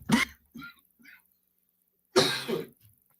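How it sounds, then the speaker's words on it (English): A short, sharp cough, then two quieter follow-up coughs, a pause, and a loud, longer cough with a smaller one after it. "Tactical cough button deployed."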